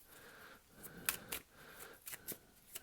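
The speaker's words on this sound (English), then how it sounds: "while I may be shuffling the cards" Soft papery riffles and crisp slaps of tarot cards being shuffled, several short bursts close by in a quiet room.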